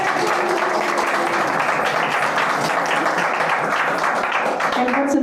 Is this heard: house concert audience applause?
yes